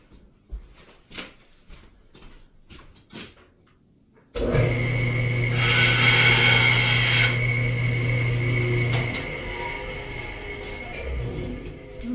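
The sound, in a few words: trimming a small wooden tail off a workpiece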